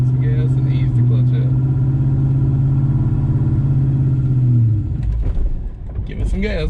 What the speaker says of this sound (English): Just rev it up a little bit and ease the clutch out as you get going.